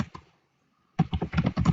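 Keys clatter on a computer keyboard as a search keyword is typed: a couple of taps, a short pause, then a quick burst of close, crisp keystrokes.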